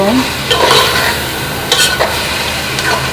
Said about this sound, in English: you stir while you wait